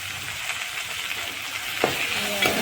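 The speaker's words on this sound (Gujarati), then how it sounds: "સરખી રીતે હલાવી લઈશું" Fenugreek leaf curry (Kathiyawadi methi bhaji) being stirred in a pan, giving a steady, moderately loud sizzle with scraping, and a couple of brief sharper clinks near the end.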